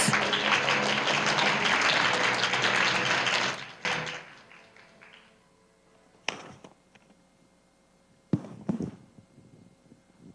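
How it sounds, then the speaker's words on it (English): Loud applause from a crowd at a parliamentary forum's closing session for about four seconds, then it cuts off into a quiet room broken by a few sharp knocks and thumps. "Please give him a warm round of applause."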